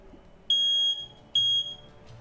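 A fire alarm gives two loud, shrill electronic beeps, each about half a second long, separated by a short pause, over a quiet background.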